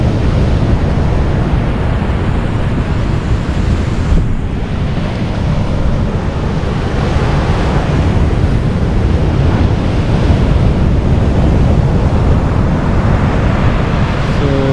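Big waves crash and surge continuously onto a beach at Casiguran, Aurora, a loud, dense roar of surf mixed with heavy wind buffeting the microphone throughout, with no voices.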